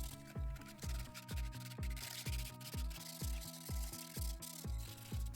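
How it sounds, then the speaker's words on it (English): A clay pot and a pipe end are sanded for gluing while building an olla, giving a steady series of about a dozen rhythmic rubbing strokes, close and moderately loud, with no talking. "Also sand the pipe end down to ensure that the glue gets a good grip."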